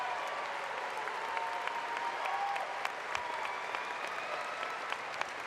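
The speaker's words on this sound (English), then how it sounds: "Please join me in applauding these outstanding honor students." Sustained audience applause at a Colorado State University Health and Human Sciences spring commencement, steady clapping filling the hall for honor students with no voices over it.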